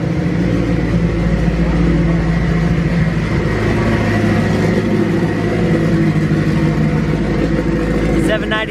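A high-powered performance car engine droning loud and continuous, rough and uneven as if stumbling, with voices talking over it throughout.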